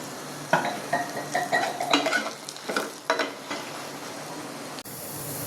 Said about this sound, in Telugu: 1/2 స్పూను ఆయిల్ వేసాను. వెల్లుల్లి వేసి, ధనియాలు, ఎండుమిరపకాయలు పౌడర్